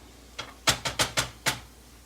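Six crisp keystrokes on a keyboard sound in an uneven burst, close and fairly quiet, heard in a kitchen with no voices.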